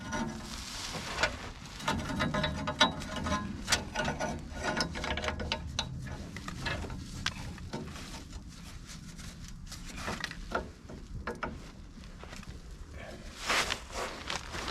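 A ratchet wrench tightens a bolt on a vehicle's coil shock mount, giving an irregular run of clicks, rubbing and mechanical clatter at close range over about fifteen seconds, with no talk.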